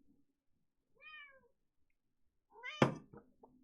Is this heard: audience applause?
no